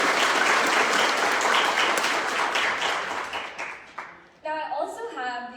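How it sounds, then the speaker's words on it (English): Warm round of applause from an awards ceremony audience, dense and sustained before thinning out, then a voice begins speaking over the last stretch of clapping. "Let's just give them another round of applause."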